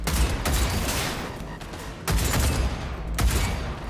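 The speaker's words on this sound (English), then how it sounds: "I'll shoot through the wall with this gun" Heavy gunfire in the video game Cyberpunk 2077, a dense rolling barrage of shots with deep thumps and a few sharper cracks, loud and continuous throughout.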